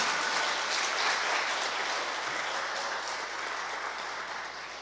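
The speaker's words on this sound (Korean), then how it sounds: "다시 한번 감사의 큰 박수 부탁드립니다" An audience in a parish lecture hall gives sustained applause to thank the priest after his talk, a dense even clapping that gradually tapers off over several seconds, moderately quiet, with no speech over it.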